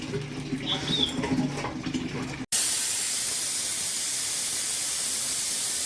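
A pressure cooker cooking mutton curry lets out its steam whistle, cutting in abruptly after muffled kitchen sounds and holding as a loud, steady hiss to the end.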